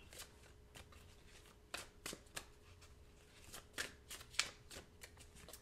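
Tarot cards being shuffled for a reading, a quiet run of soft papery riffles and light taps heard close up with no voices.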